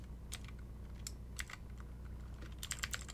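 Keys clacking on a computer keyboard in short, irregular bursts of a few presses each, faint and close, over a steady low hum, with no voices.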